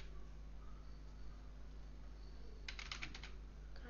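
Keys clatter in a short burst of typing on a computer keyboard, a quick run of clicks near the end against a steady low hum from a Kali Linux setup.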